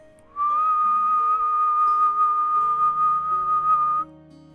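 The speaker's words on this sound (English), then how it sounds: "She opened her hand over the cauldron and, to his surprise, let out a low whistle" A single low, sweet human whistle holds one clear, steady pitch for nearly four seconds, close and prominent over a quiet bed of soft background music.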